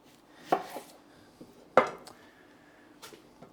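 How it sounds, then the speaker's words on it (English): A knife chops a red onion on a board: three separate, sharp chops spaced about a second apart, close and clear, with quiet gaps between and no talking. "So let me cut up another onion."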